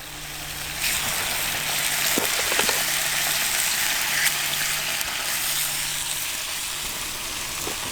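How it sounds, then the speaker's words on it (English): Bacon sizzles and crackles steadily in a pan over a camping stove outdoors, a dense continuous hiss with a low hum underneath, close and fairly loud throughout. "The bacon is sizzling."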